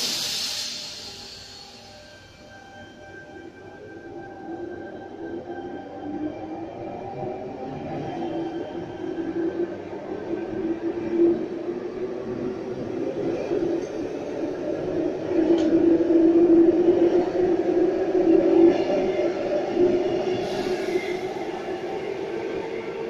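A Sydney Trains Penrith service pulls into platform one, its low rumble and wheel noise building steadily, growing louder and closer toward the end, with faint high tones above.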